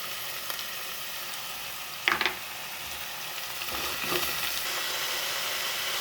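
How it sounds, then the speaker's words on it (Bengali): Carrots fry in a pan over high heat for a Chinese-style vegetable dish, giving a steady, fairly soft sizzle, with a couple of short stirring scrapes and clatters partway through; no one speaks. "গাজরটা হালকা একটু ভাজা হয়ে গেলে"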